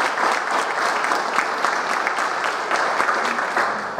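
Sustained audience applause at a talk about the Colectivo Nacional, a dense, steady patter of many hands clapping for about four seconds, fairly loud and even, with no speech over it.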